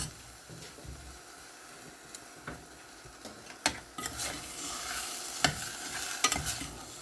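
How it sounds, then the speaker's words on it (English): Dal and vegetables mixed together in a cooking pot, with irregular scrapes and knocks of a spoon against the pot over a soft sizzle, building up toward the end. "So I'll just now mix everything together"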